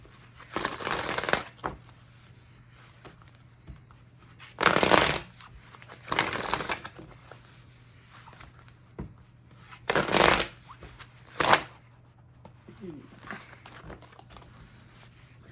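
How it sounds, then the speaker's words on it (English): Tarot cards being shuffled by hand in several separate bursts, each a crisp riffling flutter lasting about a second, with quiet pauses between them and a faint steady hum underneath. "Let's get 3 more shuffles for Aries."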